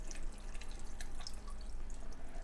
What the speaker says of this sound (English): And I'm gonna fill the rest of this jar with the brine.